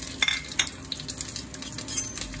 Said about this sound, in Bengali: যখন তেলটা গরম হয়ে যাবে তারপর এর মধ্যে তেজপাতা 3টা, দারচিনি 1 টুকরা এবং 3টা এলাচ থেতো করে দিয়ে দেবেন